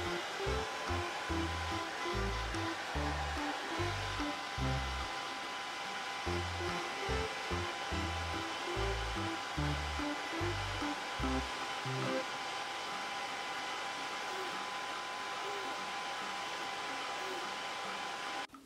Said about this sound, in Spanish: Y ahora te voy a secar un poquito el pelo con el secador.